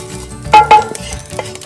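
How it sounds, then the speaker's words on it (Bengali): Small whole fish sizzling as they fry in hot oil in a home kitchen pan, with sharp clinks and scraping from stirring standing out against a steady crackle. "তেল দিয়ে মাছটা ভেজে নিল নব ঝুড়ো ঝুড়ো করে"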